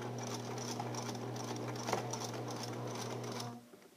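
A sewing machine runs steadily while back stitching at the end of a seam, a continuous whirring, rapid mechanical patter heard close up that stops abruptly near the end.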